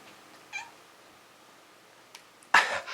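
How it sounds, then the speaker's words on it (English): A house cat lets out a brief faint meow, then after a pause a louder, harsher meow close by in a quiet room. "I guess I'm gonna move the cat in a second."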